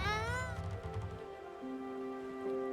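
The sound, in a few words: cat meowing in the video game Spiritfarer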